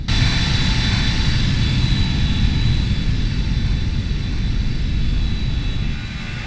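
Simulated Airbus A319 jet engines roar in a steady, loud flyby drone with a broad rushing hiss, holding nearly constant before easing slightly at the end.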